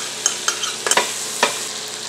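Diced onion and garlic sauté in melted butter, with a soft sizzle under a few short scraping stirs spaced through a couple of seconds, close by and with no talking.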